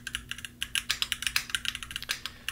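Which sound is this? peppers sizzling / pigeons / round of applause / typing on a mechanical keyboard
typing on a mechanical keyboard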